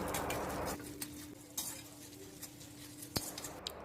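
Chana dal and urad dal fry in sesame oil in a kadai with a soft, quiet sizzle, broken by a few sharp clinks and scrapes of a spoon stirring against the metal pan.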